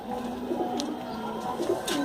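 Kolkata pigeons coo softly at close range, a few low throaty coos repeating through a short stretch with faint chirps and background bird noise.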